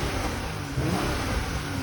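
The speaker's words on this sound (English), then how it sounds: "the third reason why I love this Jeep is its V6 Pentastar engine" Jeep Wrangler JL with a 285-horsepower V6 Pentastar engine revving, a steady, fairly loud, broad engine roar with a slight rise partway through, no talking.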